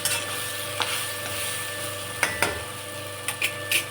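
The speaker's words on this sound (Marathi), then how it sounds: "भेंड्या चांगला फ्राय होऊन देऊ." Okra frying in a pan, a steady low sizzle broken by several sharp clicks and scrapes of a spatula against the pan, near and fairly loud.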